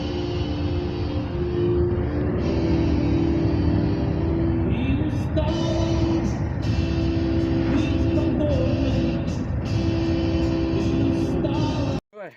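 A car drives along with a continuous engine drone and road rumble heard from inside the cabin, steady and fairly loud for about twelve seconds before stopping abruptly.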